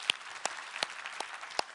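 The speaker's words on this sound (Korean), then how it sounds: "우리 하나님께 감사와 영광의 박수를 드리겠습니다" Sparse, distinct hand claps in a church service, about five of them at a slow, uneven pace, sounding somewhat distant and quiet.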